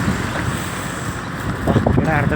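Strong outdoor wind buffets the microphone in a steady, loud roar that swells near the end, with a voice speaking faintly under the rush.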